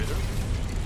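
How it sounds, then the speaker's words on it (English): A diagonal lift mechanism grinds and ratchets along in Hogwarts Legacy, a steady low mechanical rumble with clicking gear texture, loud and continuous throughout. "Ooh, diagonal lift."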